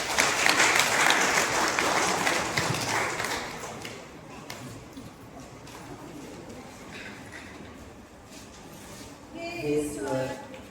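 Applause at a village Christian wedding ceremony, a burst of clapping loudest at the start and fading over several seconds, with birds cooing nearby and a brief rise of sound near the end.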